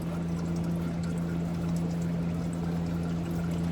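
Dark, dirty used oil drains out of an opened drain plug in a continuous close pouring trickle over a steady low hum.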